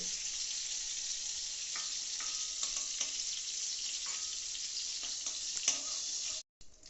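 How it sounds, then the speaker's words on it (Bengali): Tiger prawns coated in Kashmiri chilli powder frying in a wok: an even, hissing sizzle with occasional small crackles and pops, steady and close, cutting off abruptly near the end. "কড়াতে ছাড়ছি ছাড়লাম দেখতেই পাচ্ছেন আমাদের বাগদা চিংড়ি মোটামুটি ভাজা হয়ে গেছে"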